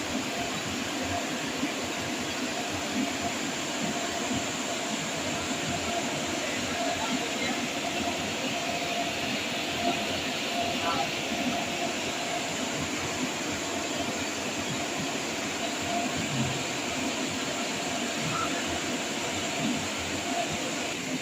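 A train runs steadily with a constant rumbling roar and hiss, unbroken throughout, heard from inside or close by.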